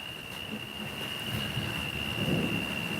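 Steady heavy rain with large drops pours down with a dense, rumbling roar and a faint high tone running throughout, no voices.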